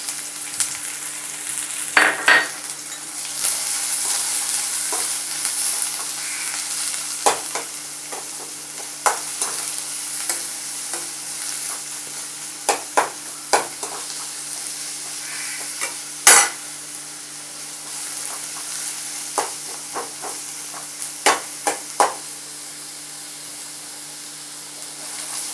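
Big onion sautés in a pan for mushroom dosa, a steady close sizzle broken by scattered sharp scrapes and clicks of stirring, with no voices.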